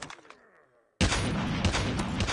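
A few sharp sniper rifle shots ring out with fading echoes in Call of Duty Mobile, then a sudden loud, sustained burst of gunfire noise takes over.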